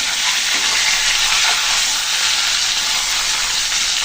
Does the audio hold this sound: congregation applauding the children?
no